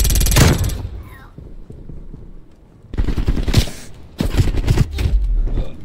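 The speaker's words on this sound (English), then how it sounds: "What the heck? Is that a shotgun?" Loud bursts of gunfire from a shotgun in the video game Call of Duty: Black Ops Cold War, coming in heavy clusters with quieter stretches of scraping and rumble between them.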